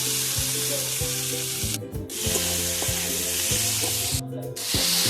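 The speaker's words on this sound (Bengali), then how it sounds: "আলু আর গুগুলিগুলোকে দিয়ে দেবো একটু নাড়াচাড়া করবো" Potatoes and river snails fry in a hot pan as a curry, with a steady loud sizzle broken by repeated scraping strokes of stirring; no one speaks.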